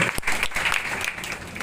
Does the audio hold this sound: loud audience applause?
yes